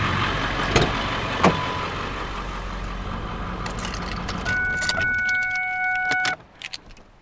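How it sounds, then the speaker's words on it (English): A truck engine idles steadily close by, then cuts off near the end. A set of warning chimes sounds just before it stops, followed by a few small clicks and rattles, like keys, in the quiet after. "Let's go shut off the truck and get set up."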